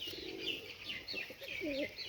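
Pigeon cooing in a loft, a few soft low coos rising near the end, with faint chirps and bird sounds in the background.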